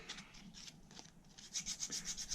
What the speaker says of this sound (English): give it a quick scrub with the sandpaper